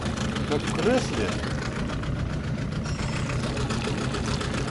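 A small motor runs steadily on a pike-fishing trip, a close, even mid-low drone through the whole stretch with no pause or change in pitch.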